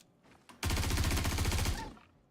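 Rapid automatic gunfire in the space game Star Citizen rattles out in one dense, loud burst of about a second, preceded by a softer mechanical click and fading into a brief tail.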